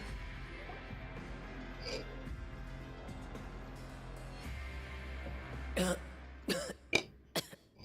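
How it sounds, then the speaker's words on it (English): A Genshin Impact character coughs up seawater after near-drowning, several sharp close coughs and throat-clearing bursts toward the end, following a stretch of quiet game ambience with faint background tones. "Nope, coughing up seawater, huh?"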